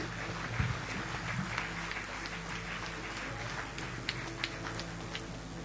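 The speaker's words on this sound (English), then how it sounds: "May we please have a huge round of applause for all of them." Audience applause at an HR summit award ceremony, a faint, distant patter of clapping over a steady hum and room noise, with a few louder claps standing out.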